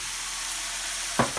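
Halved snap peas hit a hot pan and sizzle steadily, a dense close hiss that stays even throughout with a brief sharper spit near the end.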